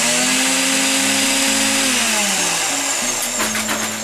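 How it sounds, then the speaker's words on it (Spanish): A household blender runs loud and steady with a whirring motor tone that dips slightly in pitch midway, heard alone through a phone call. "Poneme la licuadora para yo confirmar y estar tranquilo y saber que estás en la casa"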